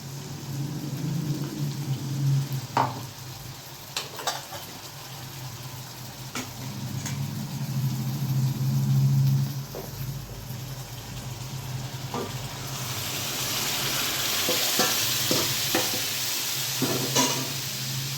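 Garlic chutney sizzles in a pan of pav bhaji while a spoon stirs and taps against the metal, with a continuous frying hiss that swells louder toward the end, close by and without talk.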